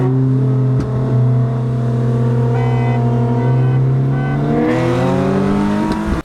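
A 2018 Honda Civic Si pulling hard during a street race: a loud, close engine roar that climbs steadily through the revs, with a gear change near the end as the pitch drops and rises again.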